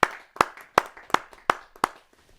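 Six sharp, evenly spaced claps ring out at a Hindi poetry gathering, a short rhythmic burst of hand-clapping from the audience rather than sustained applause, fading into quiet at the end.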